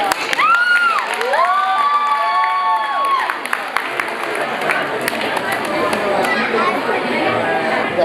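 An audience at a reunion of the 1987-88 batch of a Government Muslim High School applauds and cheers, with a dense wash of clapping and crowd voices following a few shrill whistle-like tones.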